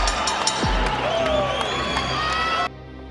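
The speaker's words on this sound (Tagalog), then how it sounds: "todo na ang hiyawan at palakpakan ng mga Mexicano" A Mexican crowd at a boxing event cheers, whoops and applauds before the fight begins, a loud, dense roar of shouting voices and clapping that cuts off abruptly near the end.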